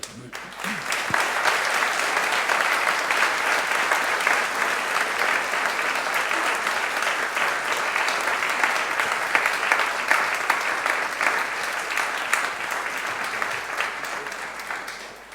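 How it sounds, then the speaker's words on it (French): Sustained applause from a congregation gathered in a parish church for a Christmas Eve vigil, a full, even roar of many hands clapping that holds steady for about fifteen seconds with slight reverberation. "Je crois que ça mérite un applaudissement."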